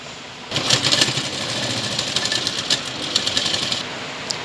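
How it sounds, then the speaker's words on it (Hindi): A sewing machine stitches together the straight pieces of a chudidar garment. After a brief pause, its motor starts a steady, fast mechanical whirr with a rapid needle patter, loud and close, and no one speaks. "तो आपको सिंपल सा दोनों सीधे वाले भागों को इस तरह रखने हैं और अटैच करने हैं। इसी तरीके से इसे भी सिल देना है।"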